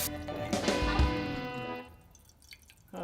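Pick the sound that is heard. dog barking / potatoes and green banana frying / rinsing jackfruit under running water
rinsing jackfruit under running water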